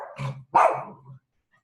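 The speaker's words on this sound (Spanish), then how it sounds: "Hoy le dio al perro por pedir el almuerzo muy temprano." A dog barks twice for its lunch, two short close barks with a gruff growling tail, then silence.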